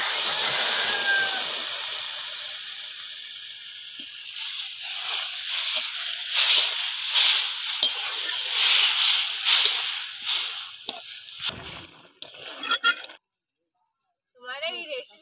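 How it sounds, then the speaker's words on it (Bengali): Drumstick leaves tipped into hot oil and stir-fried in a pan for a shrimp dish, giving a steady broad hiss and sizzle that swells as the leaves go in, then breaks off into short bursts and brief silence. "এবার ঢেলে রাখা সজনে পাতাগুলো এবার দিয়ে দিই"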